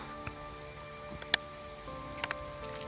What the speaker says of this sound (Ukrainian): Дощ пішов.